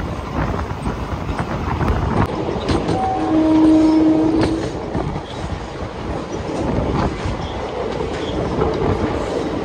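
A passenger express train rumbles along nearby with a steady low roar, a horn sounding briefly early on, as it slows into Jogulamba station.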